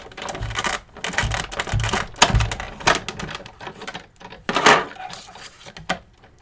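Folded extra-thick dynamic folder card stock with a top plate cranked through a Big Shot embossing machine, giving a run of irregular clicks, scrapes and mechanical knocks close by with no talk.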